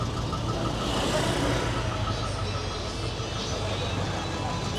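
At Padang Luar market, a vegetable transport vehicle's engine idles with a steady, rough mid-pitched rumble, nearby and continuous among market noise.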